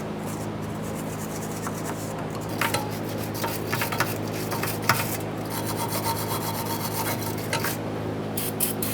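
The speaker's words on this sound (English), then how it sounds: "For this, you can use a bore brush or a wire brush, whatever you need to, even some sandpaper." A wire brush scrubs the lower control arm mounting area on a 1992-1996 Toyota Camry, giving a steady rasping scrape with brief louder strokes over a constant background hum, close by and without talk.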